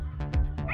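A dog gives a few short, close yips and barks in quick succession, brief and fairly loud, on a hunting outing.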